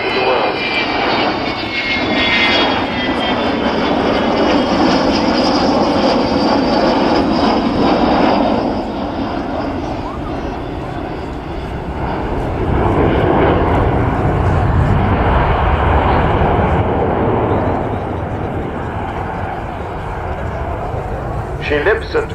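An Avro Vulcan jet bomber roars loudly and steadily overhead at the RAF Cosford Airshow in 2013, a sustained broadband jet rumble filling the whole stretch.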